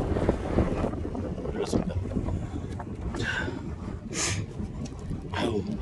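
Gusty wind buffets the microphone on a fishing boat at sea, a constant low rumble with brief hissing surges, while someone speaks briefly over it.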